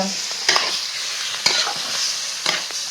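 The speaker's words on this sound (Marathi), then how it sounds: "हलवून घेणार" Spiced potato filling for vada pav is stirred in a sizzling pan over a wood-fired stove, with a spoon scraping about once a second over a steady close frying hiss.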